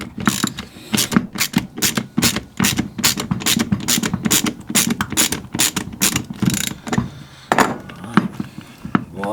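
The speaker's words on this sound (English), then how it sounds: "It does go a little quicker with a ratchet arrangement" A hand ratchet clicks rapidly in repeated bursts while backing screws out of the casing of a Bosch PST 650 jigsaw, close and crisp, with brief pauses between turns.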